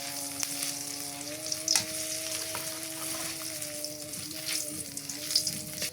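Garlic frying in hot oil for tempering, a steady soft sizzle and crackle with a few brief stirring clicks, close up and quiet, no speech.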